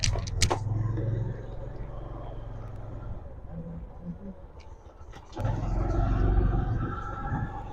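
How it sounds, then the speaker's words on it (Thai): Car driving slowly around a residential neighbourhood, a low steady engine hum heard from inside the vehicle, swelling louder near the end as it accelerates, with a few faint clicks and knocks. "ขับรถเล่น ไปแถวบ้านเรานี่แหละ"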